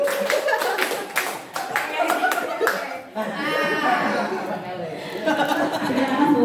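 A group claps in a counted classroom pattern, sharp bursts of hand claps repeating in quick sets, with children's chatter and laughter running underneath throughout.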